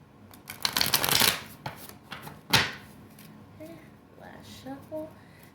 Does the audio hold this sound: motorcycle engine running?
no